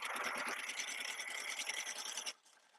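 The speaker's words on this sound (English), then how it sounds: "we are sewing, 1/4 inch, zipping all the way down" A sewing machine zips along a quarter-inch seam in one continuous fast whir of stitching, then cuts off abruptly near the end, with no talking.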